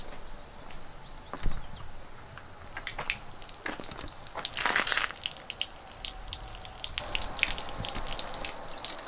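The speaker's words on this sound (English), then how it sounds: "And it's already draining, which is good. So now the water can drain all the way through." Water draining away through a newly opened drain at a house, a soft steady trickle and gurgle with occasional drips, fairly faint and continuous, no talking.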